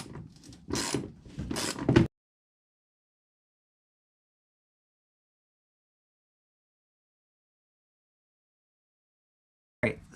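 Ratchet clicking as 7mm bolts are backed out of a Chevy Tahoe headlight, a busy burst of close mechanical ratcheting for about two seconds, then silence until a brief click at the very end.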